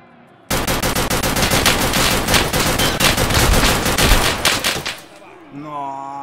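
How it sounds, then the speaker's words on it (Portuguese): Gunfire in the video game Escape from Tarkov: a loud, sustained burst of rapid automatic shots lasting several seconds. It cuts off abruptly and a voice follows. "Ele tomou 6 tiros no capacete."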